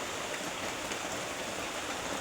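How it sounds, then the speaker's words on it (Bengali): Heavy rain in a rural Bangladeshi village, a dense, even roar of falling water that stays steady and loud throughout without a break. "বাংলাদেশে ইদানিং প্রচণ্ড বৃষ্টি হচ্ছে"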